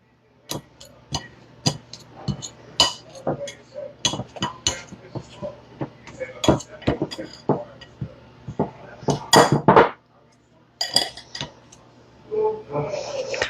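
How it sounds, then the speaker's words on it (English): Blending fork mixing a muffin crumble in a bowl, with repeated sharp clinks and taps of metal against the bowl in an uneven rhythm, close and clear with near-silent gaps. "I'm going to take this blending fork and just mix this together till it's all good and crumbly"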